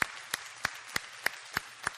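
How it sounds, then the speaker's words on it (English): About seven slow, evenly spaced claps ring out in a church during a service, sparse and fairly close, with no other sound between them. "good round of applause?"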